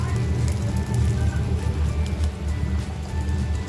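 Pomfret fish fries uncovered in a pan, wrapped in banana leaf, giving a steady close sizzle and crackle like rain on a surface throughout.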